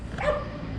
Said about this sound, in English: There's a lot of dog barking out here.